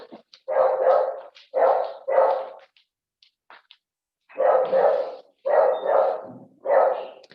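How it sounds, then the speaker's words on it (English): A dog barks repeatedly in the background, in short bursts of several barks separated by brief pauses, fairly loud and with no talk over it. "that's my dog barking in the background"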